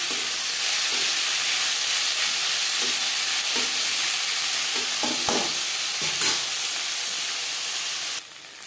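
Chopped onions, salted beforehand, fry in oil in a wok used earlier for frying fish, giving a steady loud sizzle with a few scraping stirs partway through before the hiss drops suddenly near the end.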